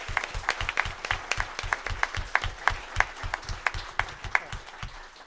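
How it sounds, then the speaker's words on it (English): An audience at a writers' conference keynote breaks into applause, a dense, even patter of many hands clapping steadily at moderate distance. "Can we get a little round of applause for"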